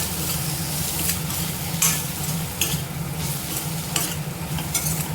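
Potatoes frying with Kashmiri chilli in a pan make a loud, dense sizzle throughout, broken by repeated scraping stirs of a spatula every second or so.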